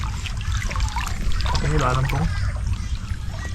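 Strong river current rushing through a changed riverbed with new structure and landscape, a continuous broad watery roar, with people talking briefly over it.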